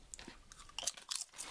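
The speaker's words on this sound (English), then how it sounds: "you're going to hear me crunching." Close, crisp crunching from someone biting and chewing a potato crisp, a few sharp bursts in quick succession with no talk.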